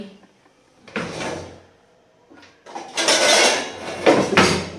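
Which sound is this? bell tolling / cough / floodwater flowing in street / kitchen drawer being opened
kitchen drawer being opened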